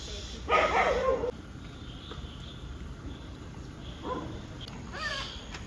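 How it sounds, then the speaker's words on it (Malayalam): Stray dogs gather outside in Kochi to eat food tossed to them, with two short bursts of canine noise and a voice amid faint insect chirring. "ആ ചേച്ചി വന്നപ്പോൾ ഇവിടെ നിറച്ച് പട്ടി വന്നിട്ടാ ഗൈസ്"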